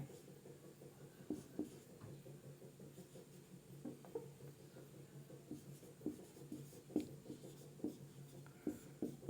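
Chalk or pen writing on a board during a class 12 physics lesson on the potentiometer, heard as irregular scratchy strokes and taps at close range, moderately quiet, with no speech.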